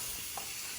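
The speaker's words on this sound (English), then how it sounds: "Look at that, already a nice sear. That's why it's important to get the pan nice and hot." Beef tenderloin sears in a hot pan, giving a faint, steady sizzle with one brief crackle partway through and no voices.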